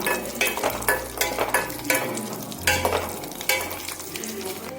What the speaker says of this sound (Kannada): ಉತ್ತತ್ತಿ, ಗೋಡಂಬಿ, ತುಪ್ಪ ಹಾಕಿ ನಾನು ಕರಿತಾ ಇದ್ದೀನಿ.